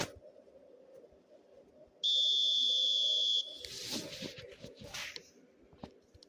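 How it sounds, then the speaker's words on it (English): A referee's whistle in the eFootball video game gives one long, steady blast lasting over a second, followed by a swell of stadium crowd noise. "There's the whistle."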